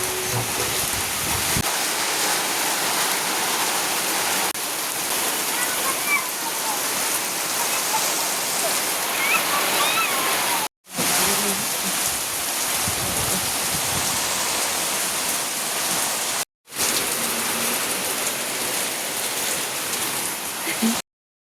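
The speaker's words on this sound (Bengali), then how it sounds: "এত পরিমাণে বৃষ্টি হচ্ছিল" Heavy monsoon rain pours down in a dense, continuous hiss and patter, loud and near, broken by two brief cuts to silence.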